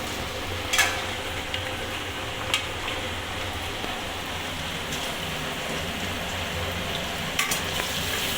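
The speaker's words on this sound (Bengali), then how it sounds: "কুমড়ো দিয়েও ভালো করে ভেজে নেব" Potato, ridge gourd and pumpkin fry steadily in a pan, a continuous close sizzle with a few sharp spatula scrapes and knocks against the pan, no voices.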